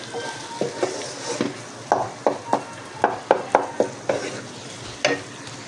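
Masala fries in oil in a pan while a spoon stirs it, giving a soft steady sizzle broken by repeated sharp scraping clacks in an irregular rhythm, with no talk.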